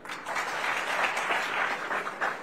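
Steady applause from an audience at a political rally, a dense, continuous wash of clapping that holds at an even level for a couple of seconds with no talk over it.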